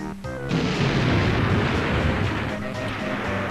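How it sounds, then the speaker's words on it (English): A TNT crate dropped in Banjo-Kazooie blows up with a loud, sudden boom that rumbles on for a few seconds, following a brief bit of game music. "let's drop that TNT crate"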